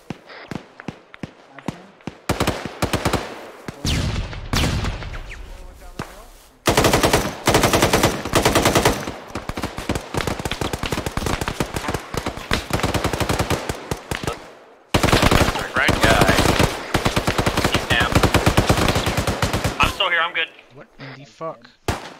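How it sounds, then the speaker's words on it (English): Loud, sustained automatic gunfire in Arma 3 during a Delta Force squad firefight, long machine-gun bursts broken by short pauses and single shots, close and dominant, with players talking over it. "we're taking a lot of fire from there"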